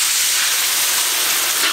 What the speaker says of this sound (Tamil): இப்போ நம்ம ரெடி பண்ண சாஸை ஊற்றிக்கலாம்